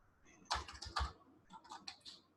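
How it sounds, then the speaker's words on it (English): Keys clatter on a computer keyboard as a page name is typed in, a quick burst of clicks followed by a shorter run of lighter taps, close and alone in a quiet room. "we'll type in the page name"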